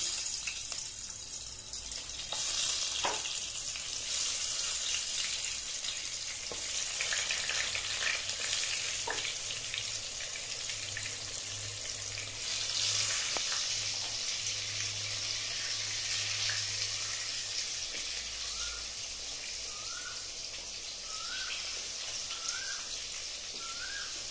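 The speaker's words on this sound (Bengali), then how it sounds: "আমি পটলটা ভাজতে দিলাম।" Pointed gourd frying in hot Saffola oil in a wok gives a soft, steady sizzle at low volume throughout, with occasional stirring clicks and faint birds chirping in the background toward the end.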